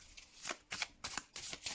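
A Hoodoo Tarot card deck being shuffled in crisp, close bursts, five quick riffling passes with brief pauses between, no talking over it.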